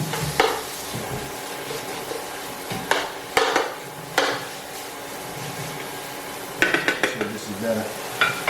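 Steak meat is chopped and broken up in a frying pan, with sharp, intermittent scrapes and clacks of a utensil against the pan over a steady background sizzle. A voice speaks briefly.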